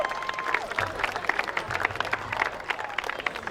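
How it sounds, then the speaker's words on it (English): A crowd applauds at a school rugby league finals day, scattered clapping with a few faint cheers, steady at first and then thinning out, with some background talking mixed in. "we can give him a round of applause"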